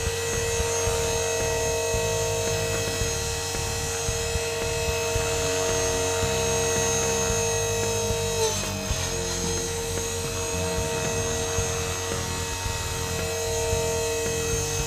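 A Blade 450 RC helicopter hovers and drifts around a yard with a steady high whine and buzzing rotor hum that stays loud and continuous, shifting slightly as it wanders.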